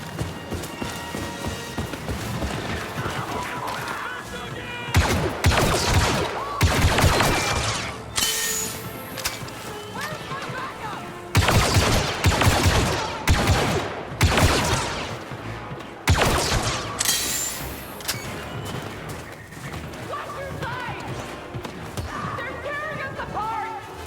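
Weapon fire and explosive bursts from the Star Wars Battlefront 2 video game, loud repeated volleys in several clusters over a dense, continuous battle din, with no talk over it.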